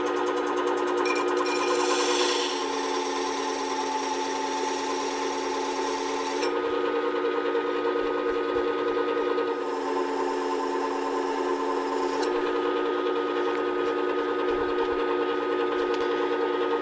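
A bench sanding machine runs steadily as the back of a hand plane iron is worked on a 600 grit abrasive, a continuous whirring hum with slight shifts in pitch and load throughout, loud and close, with no voices.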